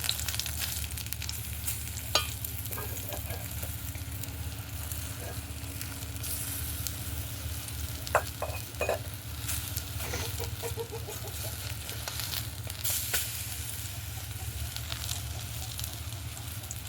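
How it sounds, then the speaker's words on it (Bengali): Small pumpkin flower fritters fry in hot oil with a steady, gentle sizzle and hiss, broken by a few faint clinks and spatters as the pieces are turned. "ছোট ছোট করে বড়ার আকারে ভেজে নেব।"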